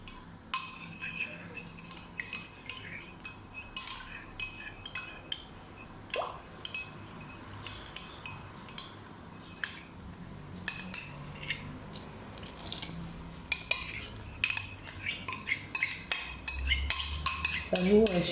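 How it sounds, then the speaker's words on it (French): A metal spoon clinks repeatedly against a bowl while sugar and dough are mixed for Kabyle-style gazelle horn pastries, sharp taps in an irregular rhythm, close and fairly loud, with a few brief kitchen clatters. "On reprend la même cuillère. La même cuillère, c'est le sucre, c'est la pâte."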